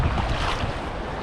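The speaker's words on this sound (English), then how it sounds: "but the lake is still really rough." Rough lake water churns under steady wind buffeting the microphone, a broad continuous roar of waves and gusts close around a small boat, no voices.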